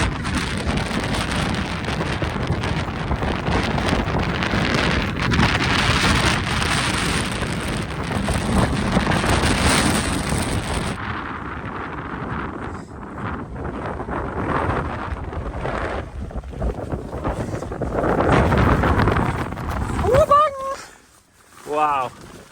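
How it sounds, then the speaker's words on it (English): Strong wind roars around a tent on the Helvellyn mountain summit amid heavy rain, loud buffeting gusts for several seconds before easing into a lower rush, with a voice speaking briefly near the end. "I've got 30 mph winds coming in from here."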